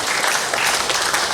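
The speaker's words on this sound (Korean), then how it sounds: "박수 좀 한번 해줍시다 여러분" A church congregation applauding children from a Bible school, dense, sustained clapping from a large crowd indoors, loud and steady throughout with no speech over it.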